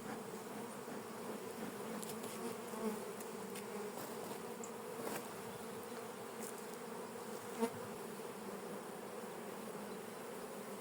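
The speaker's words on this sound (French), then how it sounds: "il y a des abeilles sur tous les cadres, y compris un petit peu sur la partition" Honeybees buzz as a steady, dense drone over the frames of an opened hive after wintering, soft and continuous with a few brief closer passes, with no talking.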